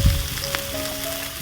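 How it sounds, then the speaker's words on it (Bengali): Eggplant frying in a pan for a vegetarian potato and eggplant dish, a steady close hiss of sizzling oil with a soft stir or thump at the start, continuous and fairly loud. "ভালো করে বেগুনটাকে ভেজে নিয়েছি বেগুনের কাঁচা গন্ধ চলে গেছে"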